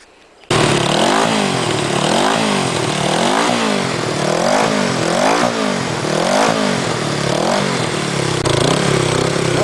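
A 33-year-old Honda CB360T motorcycle fires up and keeps running close by, loud and steady, its engine rising and falling in repeated throttle blips.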